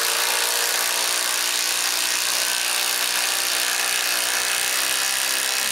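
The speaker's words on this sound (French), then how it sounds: "Puis finalement, je finis de visser le premier côté." A power driver whines steadily and loudly up close as it drives a lag bolt into a wooden lounge chair, a continuous high motor buzz with no pauses.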